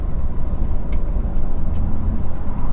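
A Ford Raptor pickup truck's engine idles and restarts, a steady close low rumble running throughout with faint high ticks over it.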